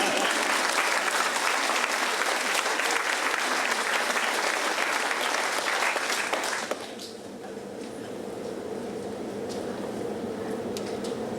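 An audience at a talk breaks into loud, sustained applause that cuts off abruptly after about seven seconds, leaving a quieter room with scattered faint claps.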